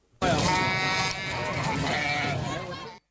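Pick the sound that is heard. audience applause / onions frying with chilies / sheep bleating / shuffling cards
sheep bleating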